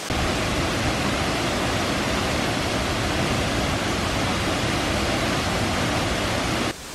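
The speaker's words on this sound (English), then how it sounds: "I've walked much closer to the waterfall now, and I'm just being belted with the spray that's coming off it." Waterfall in Tasmania heard from close range amid heavy spray, a loud, unbroken roar of rushing water that holds steady and dips slightly right at the end.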